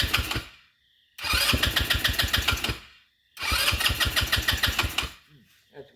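A pit bike engine that won't hold an idle revs up in two loud, pulsing bursts, each dying away into near silence, with a faint sputter at the end.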